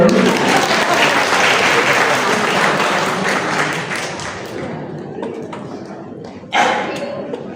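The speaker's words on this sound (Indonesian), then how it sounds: "Tepuk tangan buat GKI." Wedding guests applaud at a church holy matrimony, a dense, loud wash of clapping that thins and fades over several seconds, then swells briefly again near the end with scattered claps.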